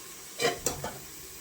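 A spoon stirs vegetables in a pot being cooked for sambar. A few brief scrapes and clinks sound against the pot, quiet and close, over a faint steady background.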